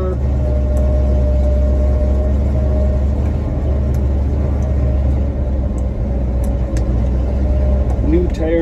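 A truck with a 350 small-block V8, camel back heads and a two-barrel carb, running at a steady, deep, continuous idle rumble, loud and close throughout.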